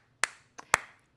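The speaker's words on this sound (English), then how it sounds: "Offbeat clapping" Three sharp hand claps, close and dry, the first and last loud and the middle one softer, alone with no voices.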